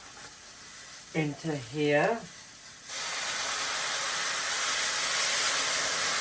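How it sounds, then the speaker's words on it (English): Hot water poured into a pan of frying vegetables for broccoli and Stilton soup sets off a loud, steady sizzling hiss that starts abruptly and continues to the end, after a short spoken phrase over quieter pan noise. "Now this is all nicely cooked, I'm going to add some hot water"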